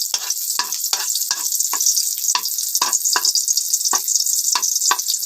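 Garlic sautéing in a hot pan, a loud constant sizzle punctuated by repeated scraping strokes of a utensil stirring, at close range with no voices.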